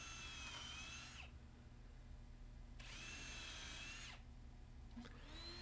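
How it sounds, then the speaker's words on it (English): A power drill boring a small hole in the front of a small wooden speaker box, with two distinct whining spin-ups lasting about a second each, a brief start of a third at the end, and quiet workshop hum in between. "I drilled a small hole in the front so that I could adjust the volume on the speaker."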